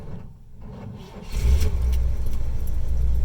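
Engine of a 1977 GMC Eleganza II 26-foot motorhome starting: a brief key and cranking rattle, then the motor catches on the first crank and settles into a loud, steady, close idle rumble.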